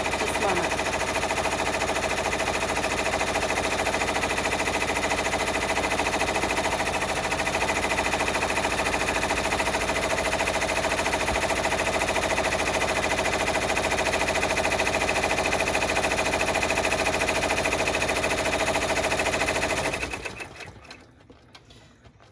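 An embroidery machine stitches a clutch with a loud, steady, rapid mechanical whirring and clatter that runs for about twenty seconds before stopping abruptly.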